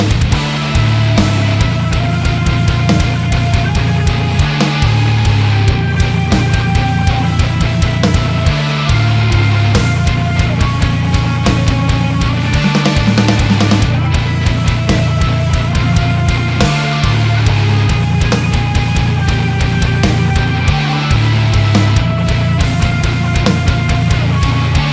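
Metal riff, dense low distorted guitars chugging in an interlocking syncopated pattern over thudding kick drums, with a heavy groovy backbeat snare landing on beat three, loud and continuous throughout.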